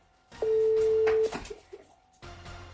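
An outgoing phone call rings through unanswered, with a steady ringback tone sounding once, a pause, then starting again. Faint background noise sits between the tones.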